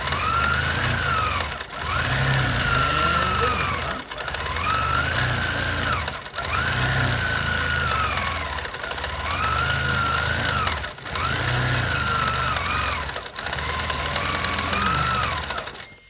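A sewing machine stitches free-motion quilting swirls and feathers, running in steady bursts of about two seconds with brief pauses between, a close, even mechanical hum with a whining tone and no talking.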